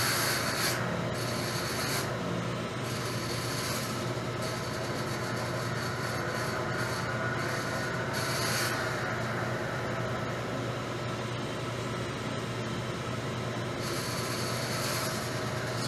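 A lathe powered up and spinning a modified surface gage, giving a steady loud rushing whir with a constant low hum, unbroken for the whole stretch, close by and with no talking.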